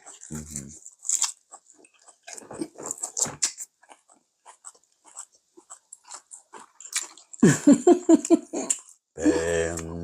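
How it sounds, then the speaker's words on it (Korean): Close wet chewing and smacking of salt-grilled eel at a Korean home meal, with bursts of soft mouth sounds between quiet moments and people talking briefly over the eating. "난 소금구이 하나 먹어봐야지"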